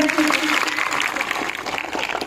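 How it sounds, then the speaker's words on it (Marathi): Applause from a crowd at a village women's game-show event, steady and fairly loud throughout, with a voice carrying over the clapping. "यांच्यासाठी एकदा जोरदार टाळ्या होऊन जाऊ द्या"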